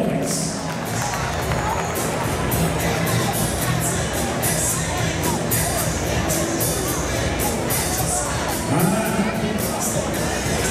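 A rodeo crowd at a ranch rodeo bronc riding event applauds and cheers steadily for about eleven seconds, a dense continuous wash of clapping and crowd noise with a brief stronger swell near the end.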